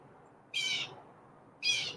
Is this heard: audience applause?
no